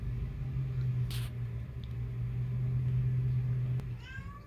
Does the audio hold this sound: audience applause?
no